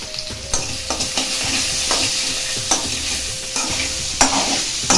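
Soya chunks frying with turmeric and chilli powder in a pan, with a loud continuous sizzle and repeated scraping stirs at an uneven rhythm close by, no speech.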